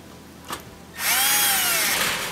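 A power drill with a long extension drives screws into a GE oven burner tube, a faint click first, then a loud close whir that rises in pitch and holds steady.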